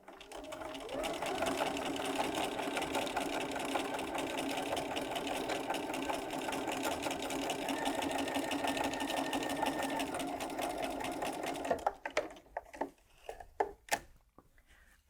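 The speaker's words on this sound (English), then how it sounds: "So I'm going to sew all the way to the end." A sewing machine runs a steady, continuous stitch along a quarter-inch seam on a pinwheel quilt block for about twelve seconds, then stops, followed by a few soft handling clicks and knocks.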